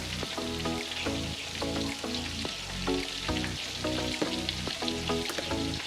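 Chili powder, garlic powder and other spices fry in a pan with a steady, close sizzle and faint rhythmic scraping from stirring.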